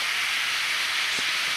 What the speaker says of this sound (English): That's boiling right there.